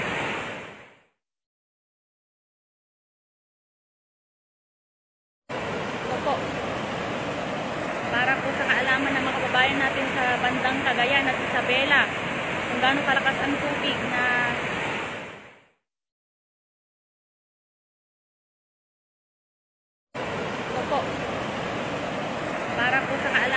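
Floodwater rushing through the seven opened spillways of Magat Dam during Typhoon Ulysses in 2020, a loud, continuous broadband roar that cuts in and out in long stretches separated by silence.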